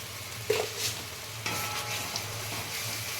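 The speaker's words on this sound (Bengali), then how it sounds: "এবারে মশলাটা আমি ভালো করে কষিয়ে নিয়েছি" A spice paste fries in oil in a pan for a vegetarian potol dorma, soft steady sizzling with a few light stirring scrapes and clinks, close and fairly quiet.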